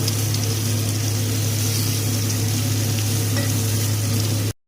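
Ground spices fry in a pan with onion, ginger and garlic for a light fish curry, giving a loud continuous sizzle with a low steady hum beneath it that cuts off abruptly at the end.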